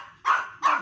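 A dog left tied outside a shop barks twice in quick succession, sharp and fairly close, with a short gap between the two barks and no other sounds around them.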